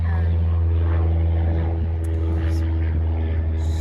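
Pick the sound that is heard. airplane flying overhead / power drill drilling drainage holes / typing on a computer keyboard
airplane flying overhead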